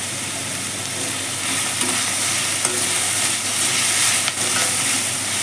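Cashew pieces fry with fenugreek leaves in an oily pan, giving a steady, loud, close sizzle and hiss with light stirring scrapes throughout.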